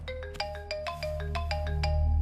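A mobile phone rings at night with a bright melodic ringtone, a quick run of repeated electronic notes playing clearly over a low background hum.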